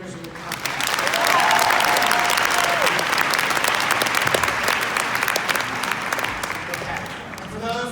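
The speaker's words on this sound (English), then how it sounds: "one more round of applause for the 50 years of the company." Audience applauding at a company event marking fifty years in business, with sustained, dense clapping that swells quickly and holds steady for several seconds before tapering slightly.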